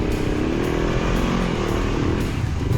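Honda CB500X motorcycle engine labouring on a failed hill climb, a steady loud close drone with rough low rumble throughout, no talking.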